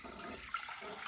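Three cups of water pouring into a pot as the base for elderberry syrup, a steady close rushing splash that fills the whole moment with no voices.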